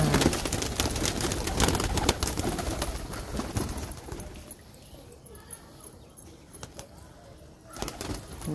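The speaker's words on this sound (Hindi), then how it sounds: "मैं जा रहा हूँ अपना कबूतर खोलने।" Pet pigeons coo in a steady, murmuring stream close by, dense at first and then thinning out, with occasional soft shuffling and wing noises in between.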